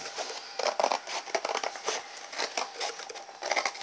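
Scissors cut through cardboard in a close, steady run of crunchy, rasping snips and crinkles, with no voices.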